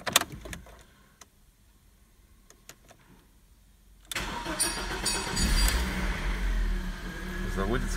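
A BMW E46 1.9i with the M43B19 four-cylinder petrol engine cranks over about four seconds in, catches and settles into a steady, close, fairly loud idle, with a few quiet clicks beforehand.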